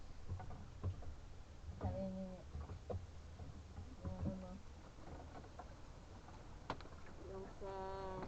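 A fishing boat's engine drones steadily throughout, with people talking over it in bursts.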